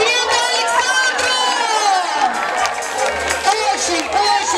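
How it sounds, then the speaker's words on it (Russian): An audience erupts in loud, close cheering and shouting mixed with clapping, many voices whooping together in a sustained burst. "Аплодисменты Александру!"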